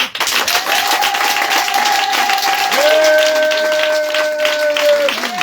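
A church congregation applauding during a sermon, loud dense clapping with sustained musical tones running underneath and a voice heard over it.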